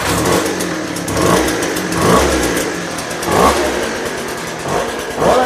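A 2010 Poulan BVM 200VS leaf blower's small two-stroke engine running loud and close, revving up and down in repeated surges about once a second as the throttle is worked.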